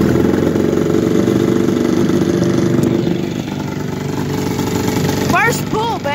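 A 1980 Evinrude 15 outboard motor runs steadily after a cold start with a loud, constant engine drone. The engine eases slightly toward the end, and a short whistle-like chirp is heard.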